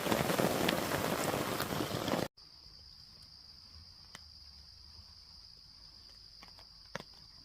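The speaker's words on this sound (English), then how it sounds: "it rained pretty hard last night" Hard rain drums on a camping tarp at night as a dense, loud patter for about two seconds, then gives way to a quiet night with a steady, high cricket trill and a few faint ticks.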